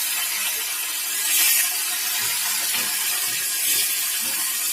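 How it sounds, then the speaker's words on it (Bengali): Rohu fish pieces coated in salt, turmeric and lemon juice fry in hot oil in a wok, giving a steady loud close sizzle and hiss that swells briefly twice, with no talk. "এখানে কড়াইতে তেল গরম হয়ে গেছে, মাছগুলোকে ভেজে নেব।"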